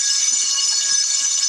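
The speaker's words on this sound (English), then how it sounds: "Sorry, that was my alarm." A phone alarm goes off, a continuous loud, high, bright electronic ringing tone that holds steady throughout, heard alone and close.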